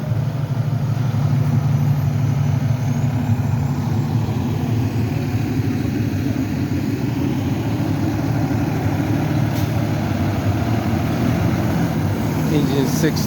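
A Boston fire department car drives out of the station during a two-alarm fire response. Its engine gives a continuous low idling drone, with heavier apparatus rumbling throughout and a faint voice under the noise.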